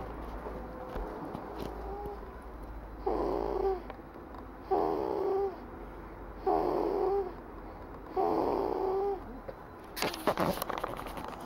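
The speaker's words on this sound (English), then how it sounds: "Baby snoring." Soft rhythmic snoring from a baby, four slow breaths spaced about two seconds apart, close and quiet over a low background hum, with a brief rustle at the end.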